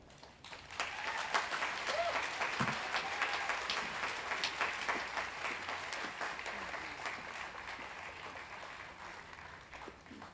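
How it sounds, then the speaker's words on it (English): An audience gives sustained applause at the She Rocks Awards ceremony, with dense steady clapping building quickly and continuing throughout alongside some crowd murmur. "Please give her another round of applause."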